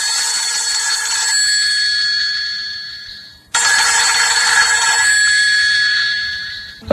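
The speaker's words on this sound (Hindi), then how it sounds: "इतने में फोन की घंटी बजी" A telephone bell rings loudly in two long bursts, a brief pause between them, with a fresh ring starting at the very end.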